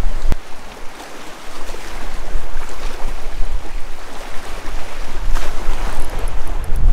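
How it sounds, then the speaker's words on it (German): Strong wind buffets the microphone on a Mediterranean shoreline during shore fishing for bonito, a steady loud roar with waves and surf washing underneath and no talking. "Der ist so krass, der Wind."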